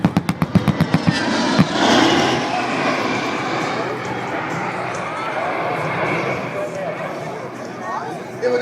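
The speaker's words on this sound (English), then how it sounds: "The A-10 is a premier closed-air support aircraft" A-10 Warthog jet at the Abbotsford B.C. airshow, opening with a burst of rapid sharp cannon-like pops followed by a loud sustained jet roar that slowly fades, with an announcer talking over it.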